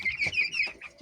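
Adler chickens in a home coop make soft, overlapping clucks and chirpy calls, close and steady through the short moment, with no talking.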